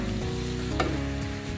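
Chicken and chow mein sizzle loudly in a pan as they are stirred, a continuous close frying hiss with a brief scrape of the utensil partway through.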